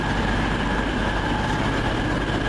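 An East Midlands train rolls along the Midland Main Line with a steady, loud rumble and faint wheel clatter, heard from inside the carriage with a constant hum and no talking.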